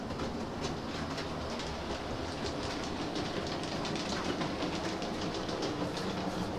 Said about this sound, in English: So let's get the Flying Scotsman up and running.